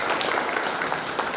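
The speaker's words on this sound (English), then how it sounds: "Please give them a big round of applause." A crowd applauds faculty members at a first-year engineering induction program, giving a brief burst of steady, dense clapping at close range.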